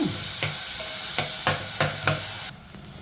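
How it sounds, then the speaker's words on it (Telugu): Sliced onions frying in a pan of oil for a vankaya pulusu (eggplant curry), giving a continuous close sizzle broken by several rhythmic stirring scrapes before the sound suddenly drops away. "ఇలా ఉల్లిపాయలు బాగా ఎర్రగా వేగాలండి"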